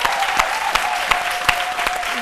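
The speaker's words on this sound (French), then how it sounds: "faisons souffler ici un vent d'applaudissements à l'endroit de l'icône Anoman Brou Félix" A studio audience on an Ivorian midday television show applauds, a dense steady clatter of clapping with sharp individual claps standing out, loud and close with no one talking over it.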